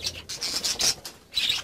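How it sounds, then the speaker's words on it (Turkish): Young budgerigars, three to four months old, chirping while bathing, a rapid series of bright close tweets mixed with soft splashing and rubbing noises. "Kuşlar bakın ne güzel zevkli bir şekilde banyo yapıyor"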